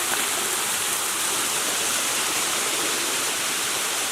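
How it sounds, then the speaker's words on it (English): Small waterfalls spill into rocky pools in a state park, making a steady, dense rushing wash of water that fills the whole stretch without pause. "You got these cool water sloughs or falls or whatever you want to call them."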